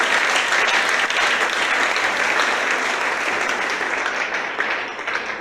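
Sustained applause from an audience at a church community general assembly, dense and steady clapping filling the hall before tapering slightly at the end.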